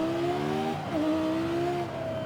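A race car engine in Forza Horizon 5 screams at very high revs, holding a steady whine, dipping briefly as it shifts, then pulling on again, loud and close.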